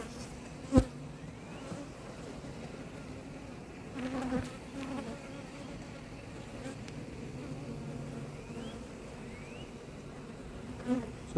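Honey bees hum at an opened hive during a spring split, a continuous close buzz with a few louder passes and light knocks, while a person speaks intermittently in the background.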